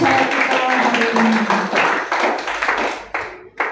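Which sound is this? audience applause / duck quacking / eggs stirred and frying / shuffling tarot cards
audience applause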